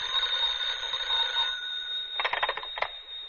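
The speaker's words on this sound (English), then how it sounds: "the telephone rang" Telephone ringing in a radio drama, an electric bell in a short steady burst followed by a few quick broken rings, close and clear with no talk over it.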